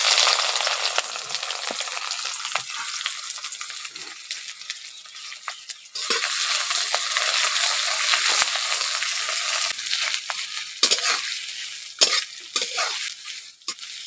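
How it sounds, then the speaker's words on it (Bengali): Four medium onions, finely chopped, fry in hot oil for a village-style chicken curry: a close, loud, continuous sizzle with stirring scrapes and occasional sharper crackles. "পেঁয়াজটাকে একটু লাল করে ভেজে নেব।"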